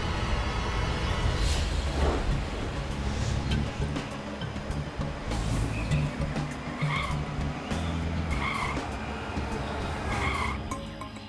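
A car brakes hard in a cop-show scene, its tires squealing and skidding over a rumbling engine, with several sharp screeches recurring toward the end; loud and close, with no speech.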